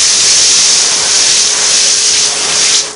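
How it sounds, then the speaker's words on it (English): A garden hose fitted with a small sprayer and shut-off valve blasts a loud, steady hiss of spray, rinsing degreaser cleaner off a Singer 301A sewing machine before cutting off near the end. "And I'm just taking a hose with a little sprayer on the end, a little valve shut off."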